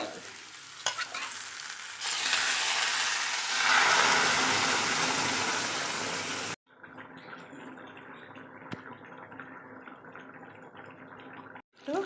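Hot water poured into a pan of young jackfruit curry at home, a loud hissing sizzle that swells for several seconds, then cuts to a softer, steady bubbling simmer.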